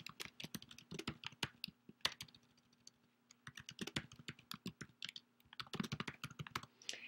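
Typing a title on a computer keyboard: irregular bursts of crisp key clicks and clacks at close range, pausing briefly in the middle before resuming, with no voices.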